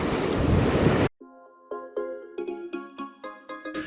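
Strong seaside wind buffets the microphone on the East Sea coast during a fishing trip: a roaring gust for about a second, then a sudden drop into a run of clear tonal chimes and plucked notes.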